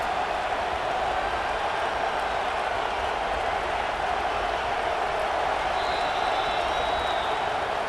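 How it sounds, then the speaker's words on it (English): Stadium crowd noise from the EA Sports College Football video game on third down: a steady, dense roar of many voices that holds at an even, loud level throughout, with a faint high whistle-like tone near the end. "This dog crowd is off the leash, and they are coming after them, bringing noise on 3rd down."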